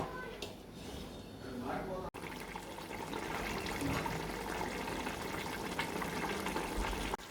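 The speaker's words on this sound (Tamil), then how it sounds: "ஸோ இதில் வந்து 3 கப்ஸ் ஆஃப் வாட்டர், 6 கப்பு ரைஸ்க்கு 3 கப் வாட்டர் இந்த கிரேவியில் நாங்கள் இப்போ ஊற்றுறோம்" Water poured from cups into Hyderabadi mutton dum biryani gravy, a steady splashing, trickling stream close by that briefly pauses then continues evenly.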